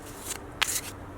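Oracle deck cards of standard thickness are shuffled close by, with two quick papery riffles of rustling card edges in a quiet room.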